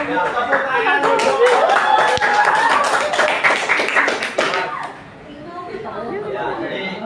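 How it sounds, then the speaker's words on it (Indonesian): A classroom of students clapping together during a morning class, dense overlapping claps mixed with chatter for about five seconds before fading into quieter voices and a teacher talking. "Ya, tepuk tangan dulu."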